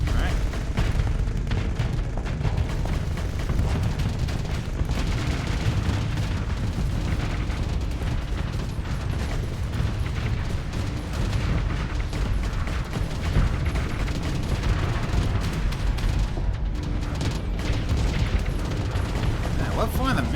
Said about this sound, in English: Firing the missiles at me.